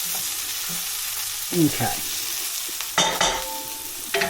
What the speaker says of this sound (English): the fat has come out of the chorizo and the onions are starting to soften